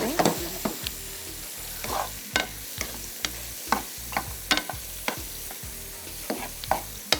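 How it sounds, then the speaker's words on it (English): Shrimp searing in unsalted butter in a pan, sizzling steadily up close while a utensil clicks and scrapes against the pan in a fairly regular rhythm of sharp taps, with no speech. "You want the shrimp to get a nice sear."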